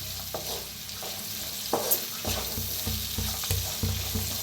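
Rice and turmeric are stirred in a frying pan, with repeated scraping strokes of the spoon over a low, steady sizzle, close and fairly loud.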